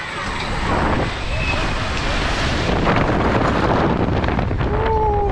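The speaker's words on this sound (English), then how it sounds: "It's so windy." Strong wind gusts roaring against the microphone on a ride at the Plopsaland De Panne amusement park in Belgium, a steady close broadband rush lasting throughout, with faint voices mixed in.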